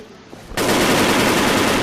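Rapid automatic gunfire in the Wolfteam shooter game bursts in after half a second of quiet and continues as a dense, loud, unbroken stream to the end.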